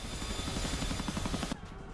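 A Chinook twin-rotor helicopter in a video game gives a steady, rapid rotor thudding over a loud engine roar, which cuts off abruptly near the end as the helicopter crashes.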